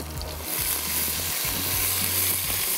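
Onions sizzle steadily as they brown in a hot pan, a loud continuous hiss of frying with no talking.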